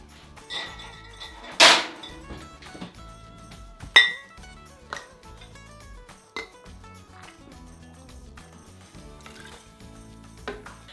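Warmed glass canning jars clink against each other, with one sharp, bright strike early on and several lighter taps and knocks scattered through a quiet kitchen, with no talk.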